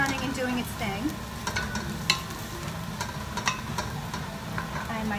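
Butter and ghee brown in a pan with a steady close sizzle, broken by small scrapes and pops as the fat bubbles.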